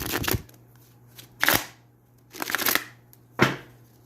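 Stiff tarot cards are shuffled close up in four sharp riffling bursts spaced about a second apart, with a faint steady hum underneath and no talking.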